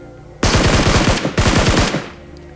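Automatic gunfire in a battle royale video game: two loud, rapid bursts of shots, close up, separated by a brief gap.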